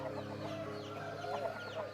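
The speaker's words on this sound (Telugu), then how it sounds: "ఈ పుంజుని ఆ పెట్టల్ని ఒక ఏరియాలో ఓపెన్గా వదిలేస్తామండి" Country chickens, a rooster among hens of the Nati Kodi breed, cluck in quick, faint overlapping calls at a farm.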